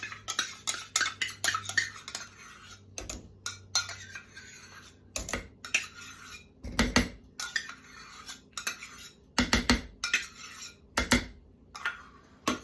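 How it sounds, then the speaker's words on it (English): Sour cream being mixed into thick cake batter in a bowl makes repeated close scraping, clinking strokes of a utensil against the bowl in an uneven rhythm with short pauses. "so mix the sour cream in there"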